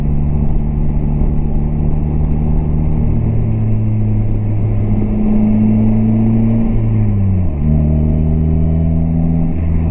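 A Polaris Slingshot with a manual transmission drives through Zion National Park in Utah. Its engine drones steadily and loud for the whole stretch, and the pitch steps down near the end as it shifts gears.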